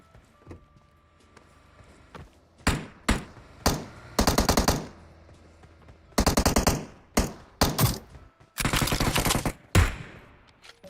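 Gunfire from PUBG Mobile, a battle royale shooter, in several loud bursts: short single shots early, then longer automatic volleys and rapid strings, with quiet gaps between.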